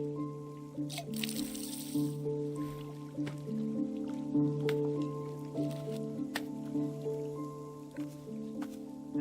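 Watering plants in the game Wanderstop: soft liquid drips and squishy trickles play over a steady tonal musical background, quiet and repeated throughout.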